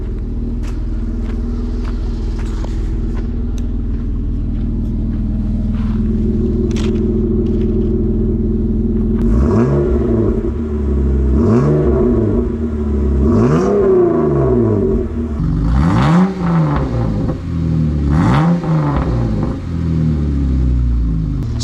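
A Jeep Wrangler JK engine with a $150 aftermarket exhaust from Amazon idles with a deep steady rumble, then is revved several times in rising and falling surges, loud and close with no talking.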